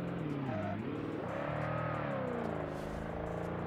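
A twin turbo drag car's engine in BeamNG Drive howls loudly on a race track corner, its pitch dipping then rising and holding steady under partial throttle, a sustained close-up roar with nothing else audible.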